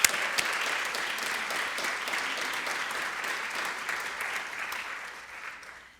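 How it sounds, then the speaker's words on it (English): Steady applause from a school crowd at a Grandparents' Day event, a continuous wash of clapping that holds evenly before fading out near the end. "how about if we give these Tafties a big round of applause?"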